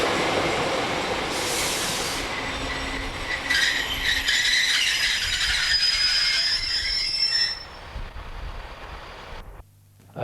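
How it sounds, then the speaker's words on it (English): A long train of empty coal wagons bound for Silverwood rolls loudly through a railway station, with rumbling wheels, rattling cars and a high metallic squeal before the noise cuts off abruptly near the end. "A train of coal empties bound for Silverwood passes through the station."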